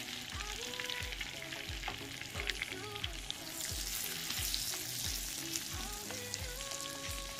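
Ginger frying in a pan of melted butter gives a steady, close sizzle with small pops, while a low rhythmic thumping repeats underneath; nobody speaks.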